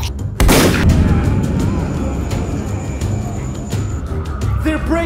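Gunfire booms in a Lego Undead Nightmare game, a big blast opening into a run of sharp shots and rumbles, with brief voices among the noise.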